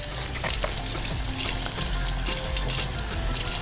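Tap water runs steadily and fairly loudly into a bowl being washed at a kitchen sink, with splashing bursts rising and falling throughout.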